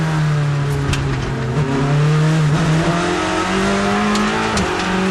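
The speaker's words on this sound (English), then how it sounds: "Here is the Proton Porsche, driver change. And as he leaves the pit lane, Harry Tincknell will become the only man to" A Porsche race car pulls out of pit lane after a driver change at the Monza six-hour endurance race, its engine note loud and close, climbing steadily in pitch through the gears over roaring track ambience.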